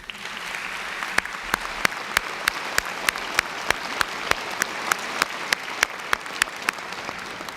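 Steady applause at a Wofford College commencement honoring retiring faculty, a dense sustained clapping from a large seated crowd, moderately loud and even across the whole span with no voices over it.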